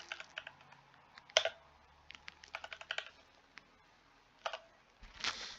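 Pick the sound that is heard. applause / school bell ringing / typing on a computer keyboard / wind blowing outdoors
typing on a computer keyboard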